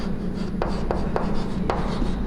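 Chalk or marker scratches across a classroom board while binary subtraction is worked out, with short rasping strokes and taps repeating at an uneven rhythm, fairly close and alone without talk.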